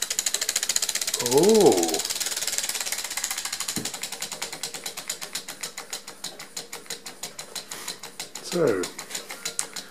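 A 3D-printed Stirling engine runs with a rapid, regular mechanical clicking that speeds up steadily, close and clear. Someone briefly exclaims and speaks over it.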